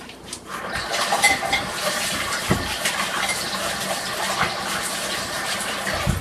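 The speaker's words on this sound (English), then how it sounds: "Excuse me while I turn my back and wash my hands." Water from a kitchen sink tap runs steadily while hands are washed during soup cooking, a continuous close splashing gush lasting the whole stretch with no talk.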